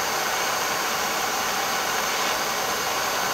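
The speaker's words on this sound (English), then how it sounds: "a little more heat coming out of this torch" A torch flame heats a 3/8 inch ball with boiling flux for silver soldering, giving a steady, loud roaring hiss that holds constant and close, with no talk.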